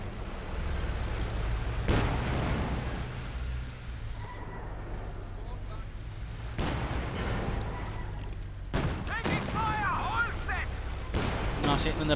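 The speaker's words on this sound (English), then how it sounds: "Another bit of explosives there. Puma here firing away." Gunfire and explosions in the real-time strategy game Company of Heroes 2, a 1v1 match between German and Soviet forces: a few heavy bangs and booms spaced over a constant battle rumble and engine noise, with a voice commentating over it.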